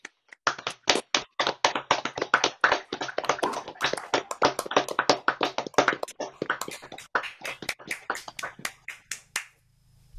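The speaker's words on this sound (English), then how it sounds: "Perhaps we could give him a round of applause," A small audience claps at the end of a lecture honouring the late folklorist Roy Palmer, a dense run of hand claps that thins to a few scattered claps before stopping.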